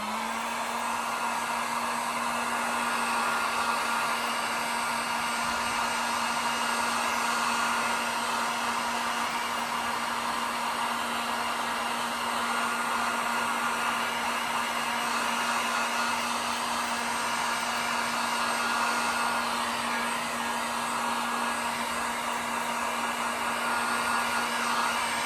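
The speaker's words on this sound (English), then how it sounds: "Hit these with the heat gun." A heat gun blows hot air over rust-effect paint, a loud, steady whirring roar with a constant motor hum that runs unbroken for the whole stretch, no voices.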